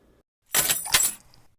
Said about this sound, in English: The strainer and the pencil? Yeah, they made a really good zipper for this scene.